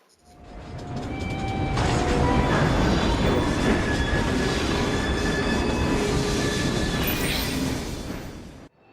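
A steam-era train in Victorian London in Assassin's Creed Syndicate rumbles and rattles steadily for several seconds, with metallic wheel squeals and creaks riding over the clatter, then cuts off abruptly.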